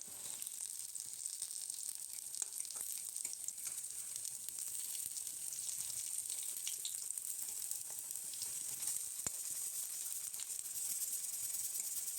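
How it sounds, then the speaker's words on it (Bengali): Besan (gram flour) fritters frying in hot oil give a steady, close, continuous sizzle and crackle that runs unbroken throughout, with no voices. "এবার বড়াগুলো এক এক করে ছেড়ে দিয়ে ভালো করে ওলটপালট করে ভেজে তুলে নিতে হবে।"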